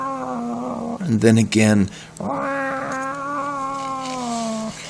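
Cats yowl in long, wavering cries as a sound effect in a read-aloud telling of the folk tale King o' the Cats, a loud pair of bursts followed by a sustained howl, with a storyteller's voice briefly between them.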